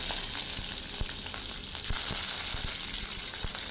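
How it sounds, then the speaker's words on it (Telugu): Green chillies and curry leaves frying in hot peanut oil as a tempering for a carrot curry, producing a loud, dense sizzle with occasional crackling pops, heard alone without talk. "పచ్చిమిరపకాయలు కరివేపాకు కూడా వేసి కాసేపు వేగనివ్వాలి"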